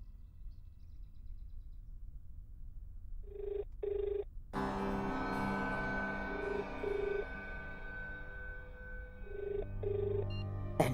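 A telephone rings repeatedly and goes unanswered, short ring bursts in a regular pattern sitting over quiet background and a brief swell of music partway through.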